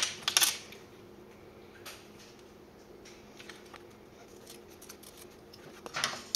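Scissors trim loose threads and seam allowance on fabric while sewing a wallet: a few quick, crisp snips near the start and again at the end, with a quiet room in between.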